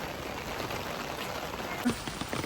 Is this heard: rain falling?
yes